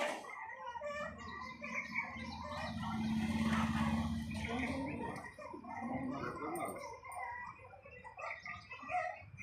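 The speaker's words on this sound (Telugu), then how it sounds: "ఇది మమ్మీ పిట్ట" A mother bird chirps near a small nest of chicks, with busy overlapping chirps and calls throughout, while a low broadband rumble underlies the scene.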